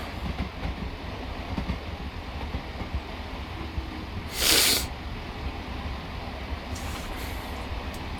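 Train coasting into a station in Train Sim World: a steady low rumble of rolling wheels and carriages, with a short hissing burst of air midway and a fainter hiss later.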